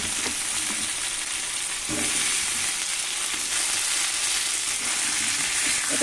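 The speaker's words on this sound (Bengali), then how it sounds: "এখানে পেঁয়াজ দিয়ে আলু খুব ভালো করে ভাজা ভাজা করে নেব।" Potatoes fry with onions in an oiled pan for a Bengali fish curry, a dense, continuous hiss of sizzling heard close up, with faint clinks of stirring underneath and no voices.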